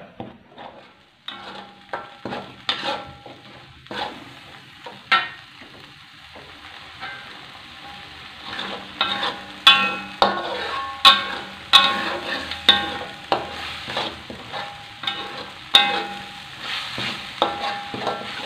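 Spices sautéing in a pan for a gulai with bitter gourd and salted fish: a low, steady sizzle broken by sharp scraping and stirring clicks of a utensil against the pan, growing busier and louder in the second half, with no talk.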